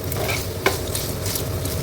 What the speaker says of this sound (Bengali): এবারে এটা একটু ভাজা হোক